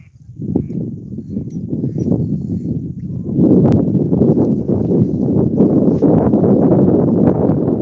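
Wind buffets the microphone at a fishing spot near Redmond, Oregon, a loud, steady low rumble that thickens and strengthens midway and keeps blowing without a break.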